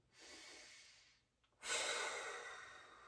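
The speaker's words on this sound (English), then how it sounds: "Couple more breaths here." Slow, deep breathing during a yoga and foundation training exercise for back pain: a long, soft breath followed by a stronger, rushing exhale, close to the microphone and otherwise quiet.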